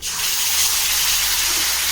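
Tamarind water is poured into a hot pan of frying chutney with a sudden rush and steamy hiss, followed by a steady, close gushing sizzle.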